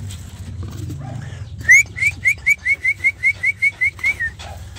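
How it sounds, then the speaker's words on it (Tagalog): Zebra doves with chicks being fed at a home aviary: a run of about a dozen short, evenly spaced high chirps, each rising slightly, starting after a sharp sound, over a low steady background rumble. "Mga bato-bato natin."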